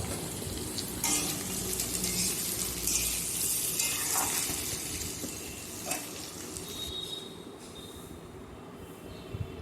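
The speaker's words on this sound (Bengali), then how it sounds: "সমস্তটা আমি আবারও ভাজা করে নিচ্ছি" Boiled potatoes and vegetables fry in a pan for a vegetarian dish, with a steady sizzle and occasional stirring scrapes close by and no talking.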